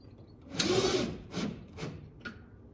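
A power drill drives self-tapping Tek screws into the metal core support of a Chevrolet Squarebody Suburban, giving about four short whirring bursts of varying length close by, with no talking.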